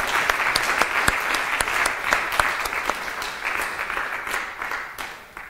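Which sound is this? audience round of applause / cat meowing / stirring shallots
audience round of applause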